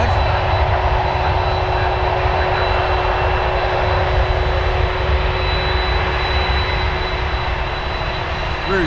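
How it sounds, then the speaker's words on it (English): An Air Canada Rouge Airbus A320 at Toronto Pearson gives a loud, sustained jet engine roar with a thin steady whine on top, unbroken for the whole stretch and free of voices. "Rouge 1626 to Fort Lauderdale on an Airbus A320"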